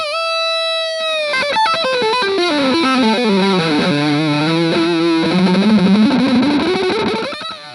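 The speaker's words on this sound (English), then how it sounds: "So my gain is cranked all the way up." An electric guitar played raw through an Orange Rocker amp with the gain cranked all the way up rings out loud and heavily distorted, a sustained chord followed by a descending, bending lead line that fades at the end.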